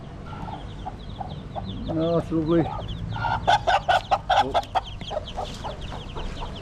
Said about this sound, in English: Chickens are looking well. Another chickens, hens.